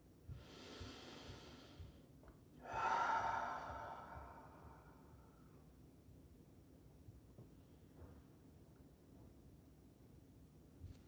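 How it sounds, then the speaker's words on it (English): Slow deep breaths drawn during a gentle morning mindful movement practice, with a soft breath near the start and a louder, longer exhale a few seconds in, then quiet room tone. "Couple more deep breaths here."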